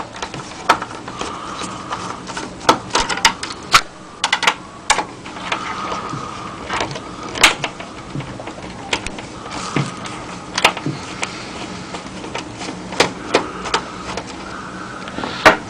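A screwdriver with a 1/8 tip works a small screw out of a power transformer, giving repeated sharp, close clicks and ticks in an irregular rhythm, with no talking.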